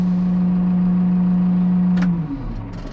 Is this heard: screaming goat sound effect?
no